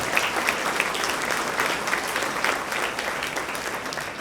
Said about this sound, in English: a big round of applause for all the parents